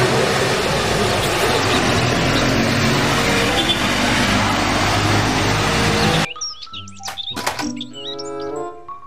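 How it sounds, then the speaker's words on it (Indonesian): A toy city bus engine drones loudly and steadily for several seconds, then gives way abruptly to brief chirps and thuds. "Mobil bus kota."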